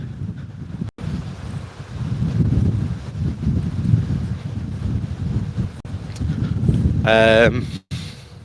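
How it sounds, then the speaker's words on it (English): Steady low rumbling wind buffeting a microphone throughout, with a brief higher-pitched sound near the end. "hopefully you can hear me, it's becoming quite windy"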